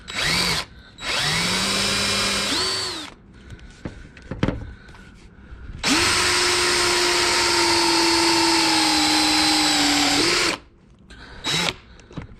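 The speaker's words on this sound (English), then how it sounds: "what I'm going to try to do is drill a little pilot hole right now." A power drill whirs in two sustained bursts drilling a pilot hole in an Evinrude 25HP outboard motor, pitch sagging under load, separated by quiet pauses with small clicks and handling noises.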